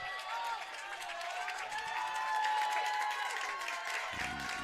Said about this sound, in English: crowd getting pretty rowdy here